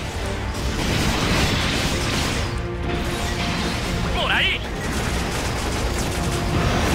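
Crossbone Gun Arms firing in the mecha game Gundam Breaker 3, a dense barrage of smashing, gunfire-like impacts running continuously under the constant noise of battle.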